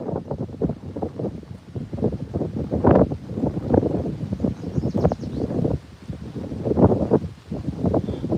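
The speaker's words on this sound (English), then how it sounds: "Oh my, so windy." Strong wind gusts buffet the microphone outdoors at a fishing spot, a loud continuous roar with rustling that surges and dips throughout, no voices.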